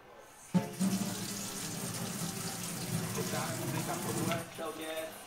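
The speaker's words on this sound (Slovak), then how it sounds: "Studenú vodu." Cold water runs from a kitchen tap into a sink, opening with a sudden gush and then pouring in a steady stream that cuts off near the end, close by and moderately loud.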